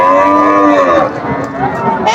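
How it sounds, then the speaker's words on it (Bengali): A cow at a busy cattle market in Kalampur, Dhamrai, near Dhaka, lets out one long, loud, close moo that slowly trails off, with faint crowd noise around it. "গরুটা দেখুন।"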